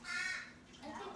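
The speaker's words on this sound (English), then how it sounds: "It's a crow." A crow in a backyard gives a single short, harsh caw at close range, with a voice speaking around it.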